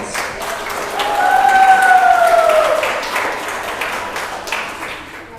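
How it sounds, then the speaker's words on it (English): An audience applauds loudly after a speech at a speaking summit, the clapping swelling and then gradually fading, with a faint tone sounding early on. "Let's all give her a big hand of applause."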